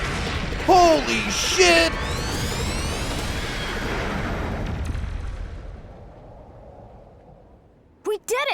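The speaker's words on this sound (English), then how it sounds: "I use my special power gun!" A special power gun attack in Digimon Story: Time Stranger lands as a loud burst with sweeping electronic tones, while an excited voice shouts over the start and a brief second blast follows near the end.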